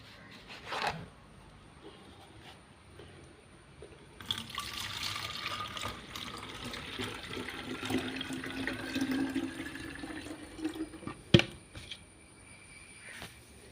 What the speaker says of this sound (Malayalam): മിക്സ് ചെയ്തിട്ട് നമുക്കിത് സ്പ്രെയറിലേക്ക് ഒഴിച്ചു കൊടുക്കാം